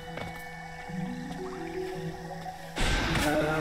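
Bubbling liquid like boiling water in the game Hollow Knight, soft squishy drips and gurgles over a steady tone, growing into a louder, denser bubbling near the end.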